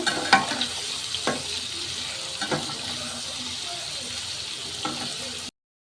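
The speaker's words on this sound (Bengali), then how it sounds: "এখন এগুলোকে আমি একটু লাল লাল করে ভেজে নেব" Chopped onion, green chili and garlic frying with shrimp in a pan, a steady hiss broken by a few sharp stirring scrapes, then cutting off abruptly near the end.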